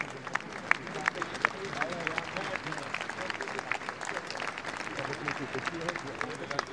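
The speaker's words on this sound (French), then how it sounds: "On peut l'applaudir." Audience applause at a public gathering in Dunkerque after the CEO of Prologium is introduced, a steady patter of many hands clapping throughout, with crowd murmur and some speech mixed in.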